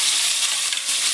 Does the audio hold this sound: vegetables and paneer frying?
yes